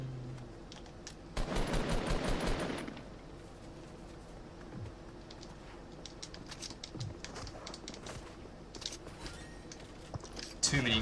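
Short burst of rapid automatic gunfire in Fortnite, loud for about a second and a half, followed by scattered fainter shots and clicks over a quiet background with occasional talk.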